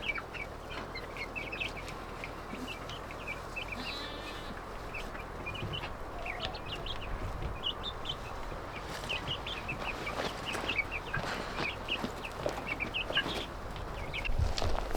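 Farm chickens clucking and calling in a steady, busy chorus around the roost in the evening, with short bird calls scattered over a continuous outdoor background and no talking.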